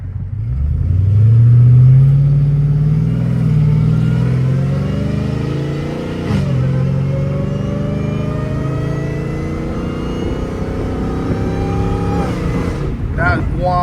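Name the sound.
catless Dodge Hellcat Redeye engine revving with supercharger whine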